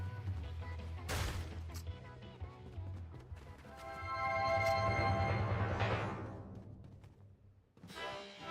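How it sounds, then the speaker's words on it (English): Fireworks going off in a video game, a sharp crack followed by a swelling run of crackling, popping bursts that builds to a loud peak, fades, and then breaks out again with another sharp burst. "Fireworks are going off right now."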